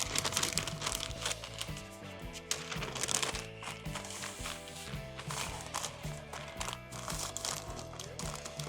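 Butcher paper crinkles and rustles as it is folded snugly around a rack of smoked ribs, with repeated close crackling handling sounds.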